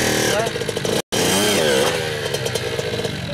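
A small motorbike engine runs steadily at close range after a training session, its buzzing, chainsaw-like drone loud and continuous apart from a brief dropout, with voices talking over it.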